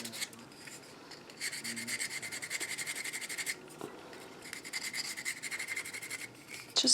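Sandpaper rubs back and forth along the edges of a handmade rose and butterfly cottage-style art plaque ornament, giving a close, quiet, steady rasping in bursts with brief pauses, and no talking.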